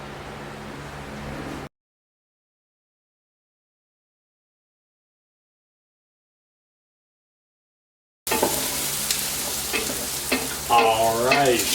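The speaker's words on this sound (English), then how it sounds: "cook this on our medium to medium high heat, medium heading towards medium high heat, for about 5 minutes until our onions become translucent" Onions and bacon sizzle in a pot over medium-high heat with stirring noises. The sound starts, drops to silence through a long gap, then returns louder with a voice talking over it.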